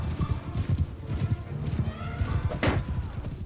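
Horse hooves clip-clop at a fast gallop in the medieval combat game Mount and Blade Bannerlord, crossing snowy terrain as a steady close rhythm of thuds with a brief whinny near the end, no talking.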